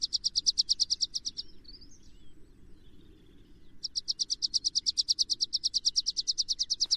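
Birdsong in heathland among heather and gorse, a rapid repeated high trill delivered in long bursts with a pause between, clear and fairly close over a faint outdoor background.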